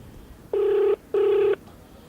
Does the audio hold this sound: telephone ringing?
yes